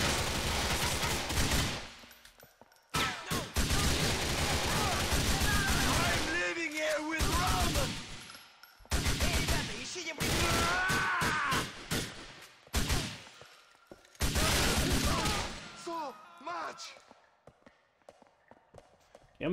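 Bursts of automatic gunfire from the video game GTA 4, loud and dense, coming in repeated volleys separated by short gaps, with a voice speaking in between.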